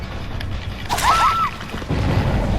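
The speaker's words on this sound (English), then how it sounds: "That explosion you heard was one of my Haunted Grounds totems." A Haunted Grounds totem explodes in the Dead by Daylight horror game: a single heavy boom with a swirling, rising whoosh that lasts about half a second over steady game ambience.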